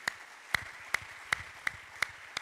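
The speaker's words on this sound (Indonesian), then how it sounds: "Tepuk tangan coba agak kuat-kuat sedikit." A church congregation at an anniversary service in Manokwari claps together in a steady, evenly spaced beat, about seven crisp claps in a row, fairly faint with a quiet room behind.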